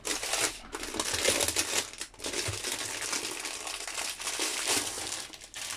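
Plastic film wrapped around a cardboard box crinkles and crackles continuously, fairly close and moderately loud, with a few brief pauses between handling bursts.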